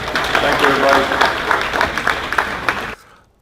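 Audience clapping at a bowling coach conference, a steady round of applause from a crowd that fades out quickly, with a voice speaking over it.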